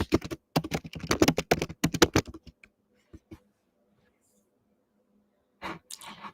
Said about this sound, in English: Sorry, I'm like typing